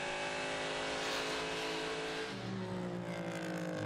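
Mid-mounted V10 race cars, a Lamborghini and an Acura, roar past at full throttle during a 2018 Northeast Grand Prix sports car race, loud and sustained with a sharp engine-pitch shift as they go by.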